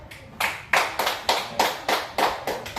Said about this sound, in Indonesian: berikan tepuk tangan pada awal